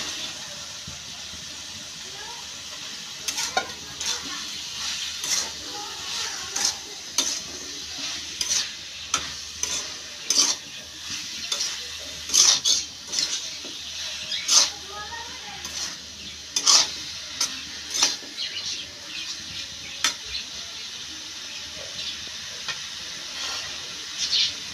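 Eggplant and potato fry in spice masala for a small-fish curry, a steady sizzling hiss broken by repeated sharp scrapes and clacks of a spatula stirring the pan, close and fairly loud.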